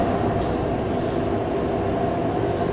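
Edmonton LRT U2 light rail car 1003 on the Capital Line rolls southbound, a steady, loud, continuous rumble of wheels and motors with no talking.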